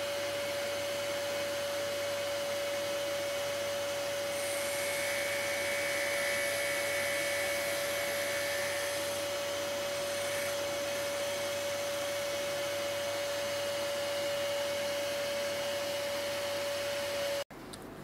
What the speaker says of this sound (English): flip the insert around. And grind the second side.